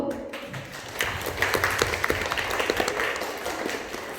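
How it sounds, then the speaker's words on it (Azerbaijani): A school audience applauding student teams at a class quiz competition, steady crowd clapping building and holding under a faint bit of voice. "onları alqışlayaq"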